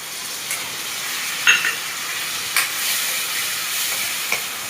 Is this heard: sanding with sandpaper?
no